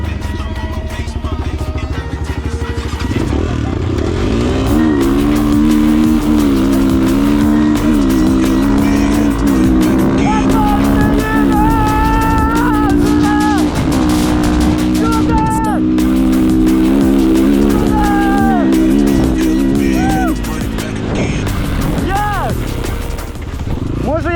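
Enduro motorcycles, including a Husqvarna, start a race on a dirt track, with engines revving hard in rising and falling whines throughout, loud and close, as people talk over them.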